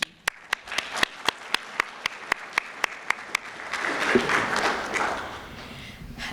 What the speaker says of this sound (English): would you please stand and let everybody give you a round of applause?